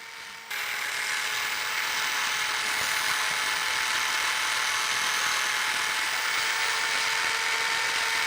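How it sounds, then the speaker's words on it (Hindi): An electric drill bores into a wall to mount a CCTV camera, a steady, loud, high whine that starts abruptly and runs unbroken with no talk. "ड्रिल कर रहा हूँ।"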